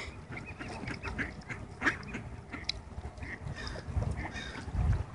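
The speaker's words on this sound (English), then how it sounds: "Here's a little piece for the big duck." Ducks being fed bread quack and honk repeatedly, close by outdoors, with scattered calls from geese-like birds over a low background murmur.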